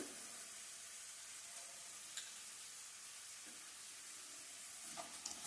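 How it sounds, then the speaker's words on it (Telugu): Onions frying in hot tempering oil make a faint, steady sizzle and hiss, with occasional soft stirring clicks in the background. "పోపు వేగిపోయిన తర్వాత ఉల్లిపాయలు కూడా వేసాను."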